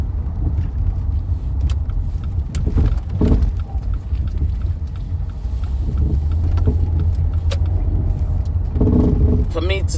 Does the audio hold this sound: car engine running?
yes